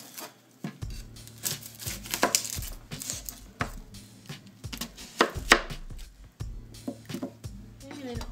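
A knife chops a red onion on a cutting board in quick, uneven bursts of sharp taps and thuds, close up, with brief pauses between runs.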